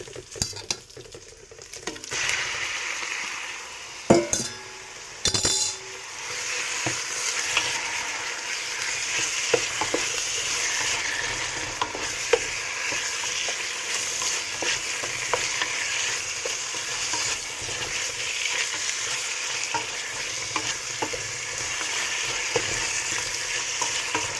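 Steak pieces sizzling in a hot pan for a Samoan steak dish, a continuous loud hiss and crackle with scattered clinks of utensils stirring against the pan.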